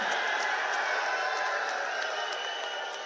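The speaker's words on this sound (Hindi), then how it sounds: "राम स्वरूप जी के लिए ताली बजाओ सभी लोग" Dense clapping from a large crowd at an outdoor political rally in Nasirabad, Ajmer, Rajasthan, a steady wash of applause with scattered louder claps, fading slightly toward the end.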